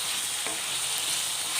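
Pieces of elephant foot yam fry in hot oil, a continuous close, bright sizzle with faint stirring scrapes.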